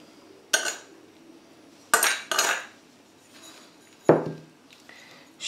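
A spoon stirs and scrapes through coarse salt, lemon zest and pepper in a bowl to make a salmon cure, giving four separate gritty, clinking strokes with quiet gaps between them and no talking.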